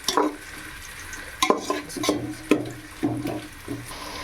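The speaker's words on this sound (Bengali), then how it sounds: "এবার কষতে থাকবো পেঁয়াজটাকে" Onions are stir-fried in a pan with a little water for mutton biryani, a soft sizzle under regular scraping strokes of a spatula that repeat about every half second, with no talking.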